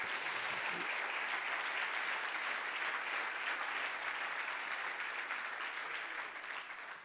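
A church congregation applauds, a wide, even wash of many hands clapping at moderate distance that holds steady for several seconds before tapering off slightly at the end.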